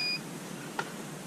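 A hoverboard is switched on and gives a short pair of electronic beeps at the start, followed by a single softer chirp, close and clear over quiet background.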